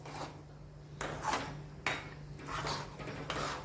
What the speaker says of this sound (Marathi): आता हे सर्व असं मिक्स करून घेऊया आणि परत बारीक गॅस करून छान फिरवून घेऊया